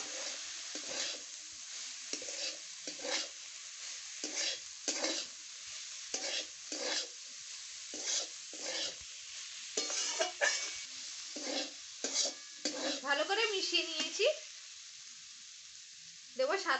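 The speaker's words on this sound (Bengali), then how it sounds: "এখন আমি গ্রেট করা আলু দিয়ে দেব একটু মিশিয়ে নেবো" Grated potato is stirred into spiced oil in a frying pan for bread pakora, a regular rhythm of scraping spoon strokes over a soft sizzle, close by, with a brief voice near the end.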